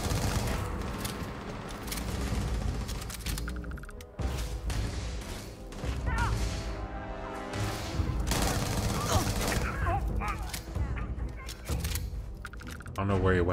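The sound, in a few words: enemy weapon fire in video game Starfield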